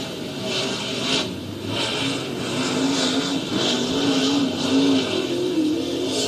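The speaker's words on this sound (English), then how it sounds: "Three cars currently on the racetrack" Race car engines drone and rise as three cars circle Southern Oregon Speedway in Medford, Oregon, a continuous loud roar with passes swelling and fading.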